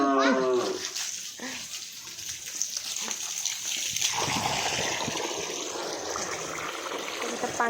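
A cow kicks about and drinks water, with splashing and sloshing throughout and a low bovine call near the start.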